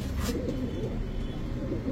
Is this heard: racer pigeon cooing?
yes